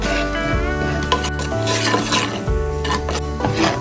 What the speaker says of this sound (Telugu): ఇప్పుడు ఇవన్నీ మిక్స్ చేస్తాము